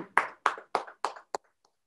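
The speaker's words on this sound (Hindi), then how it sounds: "एक बार जोर से तालियां बजा दो सब लोग" Live devotional gathering with a crowd clapping in short bursts, about five loud near claps in a quick rhythm that trail off into faint scattered taps.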